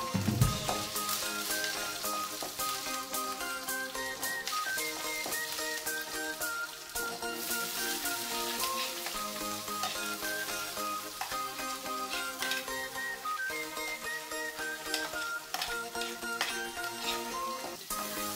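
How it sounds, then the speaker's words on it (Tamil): Green chillies sauté in a pan for a goat lung gravy, giving a dense, crackling sizzle with quick popping bursts that runs steadily throughout at low volume. "பச்சை மிளகாய் போட்டு வதக்கிரணும்"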